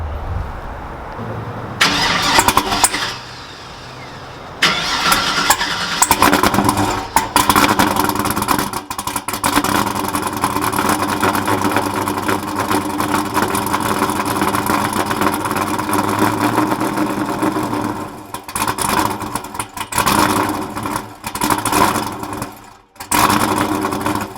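A GMC Sierra pickup truck engine with a new exhaust cranks and roars to life, then runs with a deep, loud exhaust rumble and occasional revs before cutting briefly near the end.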